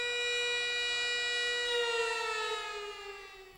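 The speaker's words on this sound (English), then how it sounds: "mourners stood in silence as sirens wailed at the Nanjing Massacre Memorial" Commemorative sirens wail at the Nanjing Massacre Memorial in a loud, sustained, steady tone that rises slightly in pitch and then fades a little, with no other sounds on top.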